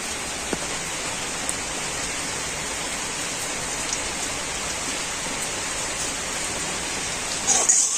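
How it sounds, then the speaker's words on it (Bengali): Heavy rain pours down in a dense, steady hiss that never lets up, with a few sharper drops and splashes standing out near the end. "প্রচন্ড জোরে বৃষ্টি হচ্ছে"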